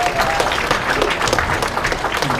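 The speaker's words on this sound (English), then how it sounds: "big, big hand of applause." Dense, sustained audience applause at a graduation ceremony, many hands clapping steadily and loudly throughout with a faint murmur of voices underneath.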